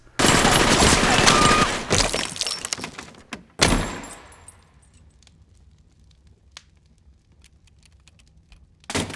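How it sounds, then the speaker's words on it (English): An M1928 Thompson submachine gun with a 100-round drum fires a long, dense automatic burst in a horror-movie cafe shootout, loud and rapid, then breaks off abruptly and gives way to quieter scattered sounds. "Art pulls out an M1928 Thompson submachine gun with a 100-round drum magazine, spewing 45 ACP at everyone in the Clown Cafe"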